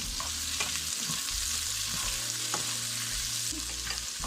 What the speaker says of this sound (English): when you saute this up a little bit